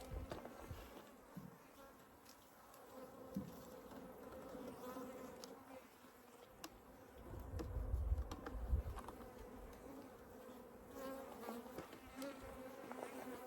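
Honey bees from a freshly installed nucleus colony hum in a steady, continuous buzz, with a fuller, louder swell partway through and faint handling knocks around the frames.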